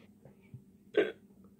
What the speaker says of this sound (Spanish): Medio hipo.